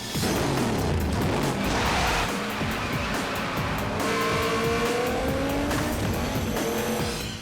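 A 900-horsepower Dodge Charger muscle car roars loudly and steadily throughout, with screeching tire squeal and rising engine whine near the end, racing-style and close.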